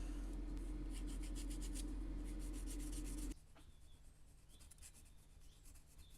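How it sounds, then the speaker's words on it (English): Wet and dry abrasive paper rubs off excess solder on small metal detail parts for a 1/200 scale HMS Hood model, a steady close scratching that runs for about three seconds and then stops. "Get some wet and dry to clean off that excess solder where I tack the parts into place"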